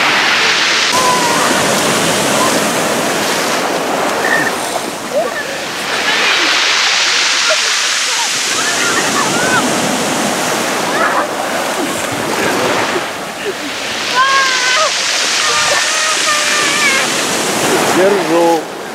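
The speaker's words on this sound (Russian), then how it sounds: "Ой, что-то волны поднялись." Loud surf along the Côte d'Azur near Nice crashes and rushes continuously, with waves breaking close by and a constant roar, while people talk and call out over it.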